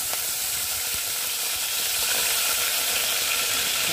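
Garlic and salt sizzle in a hot pan, a loud, continuous crackling hiss close by with faint stirring scrapes.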